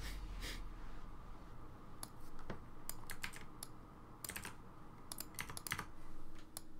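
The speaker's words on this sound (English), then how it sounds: "Typing is hard." Irregular bursts of typing on a computer keyboard, with quick clustered keystrokes and short pauses, heard close up over a steady low background hum while someone codes.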